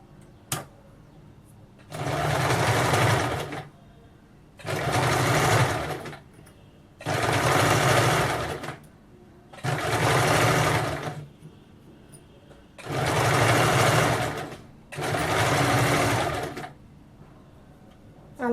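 Sewing machine stitching piping, running in six steady bursts of about two seconds each with short pauses between, close and clear with a whirring mechanical hum.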